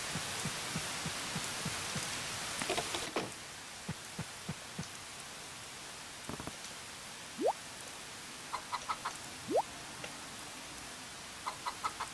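Rainfall in the rainy spring season of the Story of Seasons farming game, a soft constant patter under scattered light taps and a few short rising chirps, quiet and even throughout.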